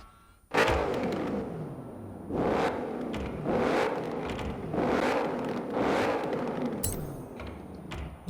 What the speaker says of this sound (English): Looks like this car actually might have a new engine sound as well